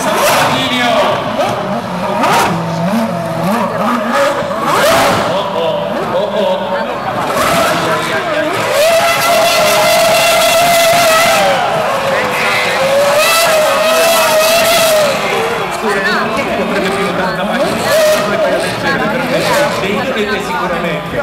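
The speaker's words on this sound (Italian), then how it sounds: "Il rombo della Formula 1 per i Red Bull Spider" A Formula 1 Red Bull race car roars loudly through the whole stretch at a Red Bull X-Fighters freestyle motocross event in Rome, engine pitch rising and falling as it passes, with a commentator talking over it and crowd noise behind.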